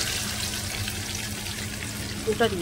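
Marinated chicken, about a kilo, sizzles steadily in a pan over fried onions for chicken mughlai, a constant close hiss of hot oil with a brief clink near the end.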